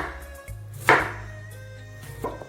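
A knife cuts through sweet potato on a cutting board for a cold sweet potato salad, giving two crisp, separate chops over a low steady hum, with no talking.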